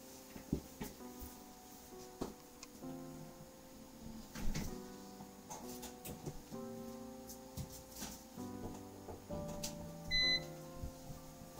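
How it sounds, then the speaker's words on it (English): An oven switched on in a kitchen, a short high electronic beep near the end over faint clattering and rustling of work. "so I'm going to fire up the oven"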